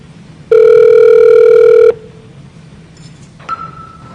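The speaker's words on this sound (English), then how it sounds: "So now I'm going to call Steve, and Z-Phone will secure the call." A VoIP softphone call placed through Z-Phone gives a loud, steady electronic ringback tone lasting over a second, followed after a short gap by a faint beep and a brief higher tone.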